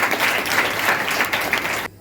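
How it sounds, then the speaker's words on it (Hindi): An audience claps in a dense, sustained burst of applause that cuts off abruptly near the end. "ताली बजाइए।"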